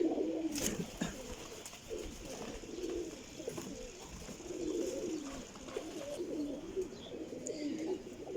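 Soft, repeated cooing of flying pigeons close by, several birds overlapping in a steady low murmur, with occasional flutters and faint chirps.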